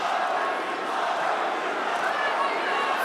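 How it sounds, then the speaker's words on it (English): A large arena crowd at a UFC event in Sacramento roars in a steady, dense wash of cheering and chanting, loud and sustained with no breaks. "Fluffy chants coming from the crowd"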